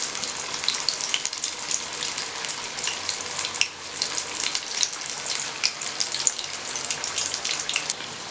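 Mutton masala vadas frying in hot oil, a dense, steady crackling sizzle held close and loud throughout, with tiny popping spatters and a brief dip partway through.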